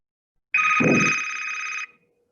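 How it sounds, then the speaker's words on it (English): A softphone call rings on a work phone: one bright electronic ringtone burst lasting just over a second, loud and close with a brief thump at its start, then silence. "if I open my soft phone application, I can actually call Daniel from my cell phone"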